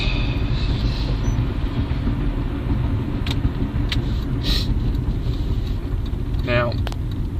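A car treated with Blue Devil accelerates through its gears, a steady loud engine and road rumble heard from inside, with a few faint high rattles and clicks over the drone.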